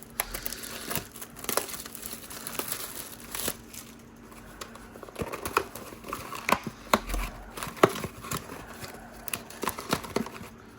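A foil pack of Marvel Allegiance Avengers vs X-Men trading cards is torn open and handled, giving close, irregular crinkling and tearing bursts with sharper crackles toward the end, no talking.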